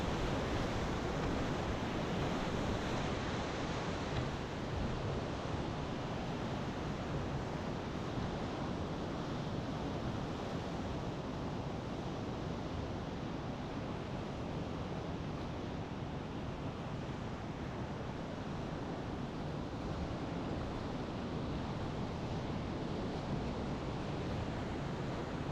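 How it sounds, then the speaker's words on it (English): High-water whitewater on the Selway River at Little Niagara Rapids, a steady, dense roar of rushing water that holds unbroken and close throughout, with no voices. "As I come up on this third drop in Little Niagara Rapids"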